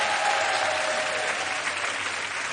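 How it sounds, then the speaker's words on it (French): An audience applauding loudly at a televised hypnosis show, a dense and steady wash of clapping that holds throughout. "Je vous demande d'applaudir très fort Mesmer et nos invités ce soir"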